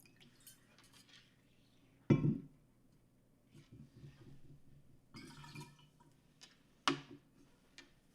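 Water splashes and swirls in a small tea cup being rinsed, with a couple of sharp clinks of ceramic and quiet dribbling between them, close and soft.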